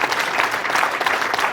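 Brisk audience applause, dense and steady clapping close by, filling the whole moment without pause.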